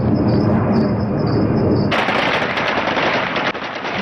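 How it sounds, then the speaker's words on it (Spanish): Rapid bursts of automatic gunfire fired into the air over Kabul crackle loudly and continuously, with dense overlapping shots and a sharp change in tone partway through. "así celebraban los talibanes la marcha estadounidense, con ráfagas de disparos al aire y bengalas en el cielo de Kabul"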